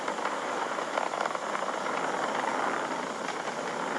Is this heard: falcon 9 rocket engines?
yes